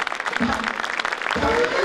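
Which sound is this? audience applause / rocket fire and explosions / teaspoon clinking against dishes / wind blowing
audience applause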